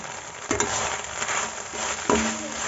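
Onions and spring onions frying and being stirred in a pan over high flame for homemade gobi manchurian made with cauliflower, a steady close sizzle with a few louder stirring scrapes and clinks.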